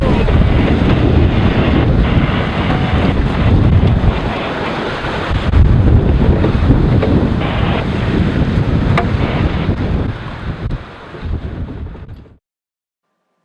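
Strong wind roars across the microphone over rough, confused seas of six to nine feet during a sailing passage, with waves crashing continuously at high level before cutting out abruptly near the end.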